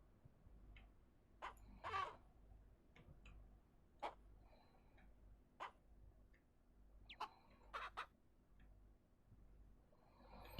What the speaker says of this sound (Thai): ก็ตอนนี้ไก่มันเยอะเกินแล้ว